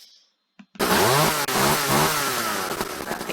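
Video game chainsaw from the Minecraft Orespawn mod starts up after a short click, then runs loud and steady with a buzzing, revving two-stroke whine throughout.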